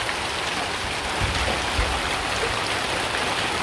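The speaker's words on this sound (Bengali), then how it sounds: "তো এই যে দেখেন এই যে বৃষ্টি নেমে গেছে" Steady rain falls over a village, a constant close hiss of drops on surfaces with a few soft low thumps and no voices.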